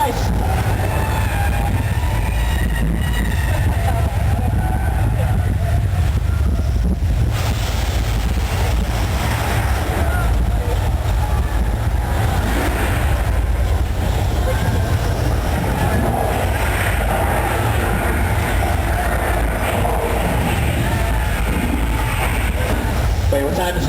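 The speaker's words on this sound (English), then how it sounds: "Oh, the truck! Look out for the truck, guys!" A truck effect on the Universal Studios Hollywood tour ride, part of a loud, continuous rumbling ride soundscape that persists throughout, with people talking over it.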